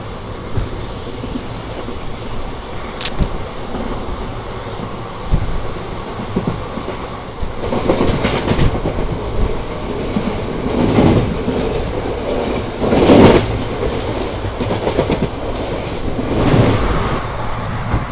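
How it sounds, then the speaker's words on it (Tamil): Yesvantpur to Vasco da Gama express train running on rails, a steady rumbling roll with rhythmic clickety-clack surges and passing whooshes, loud and continuous from on board without talk. "நம்ம வண்டி வந்து ஹூப்ளின் நோக்கி போய்கிட்டு இருக்குங்க"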